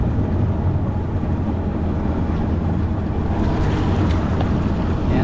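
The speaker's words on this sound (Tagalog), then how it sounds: "makina yun sa likod" A jet ski engine drones steadily and loudly up close on a ride, mixed with rushing wind and water noise, with no talking.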